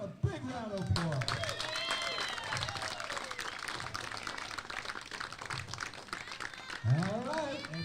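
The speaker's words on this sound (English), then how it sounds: "let's give them a big round of applause" Applause and crowd cheering at a Little League girls' regional championship in New England, for the two final teams, Bristol CT and Western Cranston RI; broad steady clapping with an announcer's voice over a public address system throughout.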